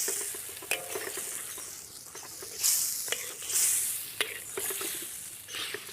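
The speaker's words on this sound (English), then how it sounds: "Keep adding the mutton, stirring the whole time to get the meat really covered with the yoghurt, onion and spices mixture" Mutton pieces on the bone stirred into a sizzling yoghurt, onion and spice mixture in a pan, with steady frying hiss and occasional scraping clatter of the spoon, fairly close.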